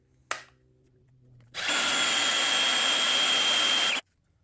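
A power drill in low gear bores into wood during a coop repair, a single sustained whine of about two and a half seconds after a brief click, close and loud, then stopping abruptly.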